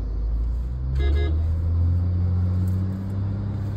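Heavy roadside traffic jam with trucks: a steady low engine rumble and idling vehicles, with a brief car horn toot sounding near the start.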